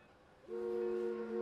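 After a quiet moment at night in a rail yard, a loud sustained train horn blast sounds, holding a steady multi-tone chord in the distance.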